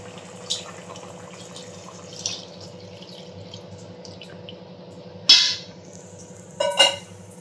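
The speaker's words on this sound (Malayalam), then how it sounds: "ഇനി ഇതിലേക്ക് നമുക്ക് എടുത്തു വച്ചിരിക്കുന്ന 1-ാം പാല് ചേർത്ത് കൊടുക്കാം" First coconut milk is added to a simmering Kerala-style chicken curry, giving a few brief liquid drips and splashes spaced several seconds apart over a low, steady background hum.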